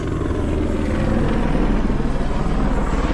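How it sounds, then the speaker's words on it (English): A helicopter passes overhead on a trek toward Everest Base Camp, a steady loud rotor and engine rumble with continuous low throbbing, no one speaking. "Helicopter going overhead."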